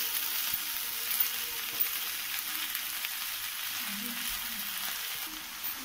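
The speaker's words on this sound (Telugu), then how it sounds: "అంతటిని ఇలా కలబెట్టుకోవాల" Kaasarakaaya curry being mixed in a pan gives a faint, steady sizzle with soft scraping stir sounds scattered through it.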